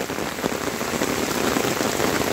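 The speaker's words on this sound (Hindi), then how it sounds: "आवाज़ सुनिए आप, छाते में कितनी ज़ोरों से लगी हुई है," Heavy rain drums steadily and loudly on an umbrella close by, a dense continuous patter with no voices.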